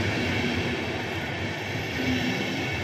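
The last two wagons of a passing train roll by at Cieplewo in Poland. The wheels and carriages give a loud, continuous, close rumble with no pauses or voices.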